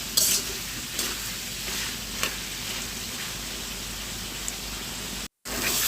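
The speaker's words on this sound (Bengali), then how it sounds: "যদি আবার মশলাটা পুড়ে যায় সেক্ষেত্রে একটু আবারও নেড়ে দিচ্ছি।" Spice paste (masala) frying in a pan while being stirred, a continuous close sizzle with occasional scraping strokes; it cuts out briefly near the end, then resumes.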